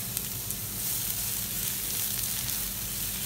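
Chopped onions fry in a little oil with a steady, close hiss of sizzling that holds even and unbroken throughout.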